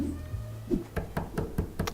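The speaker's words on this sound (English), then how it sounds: "There immediately came a banging on the front door." Series of sharp banging knocks on a front door, about five firm evenly spaced raps after a couple of lighter thuds, fairly close in a quiet room.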